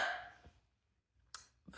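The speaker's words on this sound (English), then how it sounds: "it just triggered those hiccups that we love so much" A person with hiccups after a few drinks gives a couple of short, quiet hiccups separated by near silence. A faint breathy sound precedes them.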